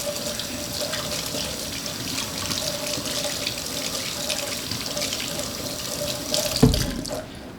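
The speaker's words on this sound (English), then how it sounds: "wash my hands" Tap water runs steadily into a sink while hands are washed, a continuous close splashing stream with a brief louder splash just before it stops.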